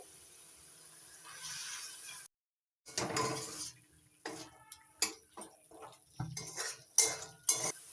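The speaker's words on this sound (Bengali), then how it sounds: "অল্প অল্প জল দিয়ে মশলাটা কষিয়ে নেব" A metal spoon scrapes and clinks against a pan in short, irregular strokes while spice paste for pea paneer is fried with splashes of water, the sounds close and fairly quiet with brief pauses.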